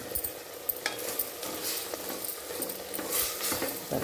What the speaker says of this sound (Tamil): மஞ்சத்தூளும் உப்பும் போட்டு வதக்கினா கொஞ்சம் நல்லா தண்ணி விடும்